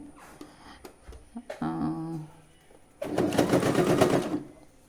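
Sewing machine stitching the sleeves of a 46-inch pleated nighty, a few short stop-start bursts of stitching followed by a longer loud close run.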